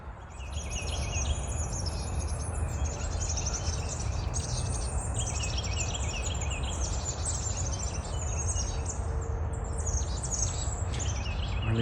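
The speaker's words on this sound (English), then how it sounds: "So many birds here." Dense chorus of many birds chirping and calling outdoors along a highway route in Oklahoma, a continuous bright layer of overlapping tweets over steady low background rumble, loud and unbroken throughout with no talking.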